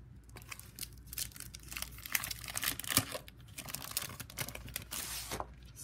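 Sheets of paper from a monthly planner subscription box are handled close by, giving a steady run of crinkles and rustles with short sharper snaps, with no voices.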